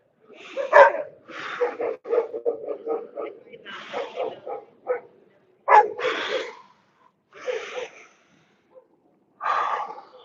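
A vocal dog barks and yips nearby during an outdoor walk, a run of sharp, close barks followed by a few spaced single calls, with a voice heard alongside.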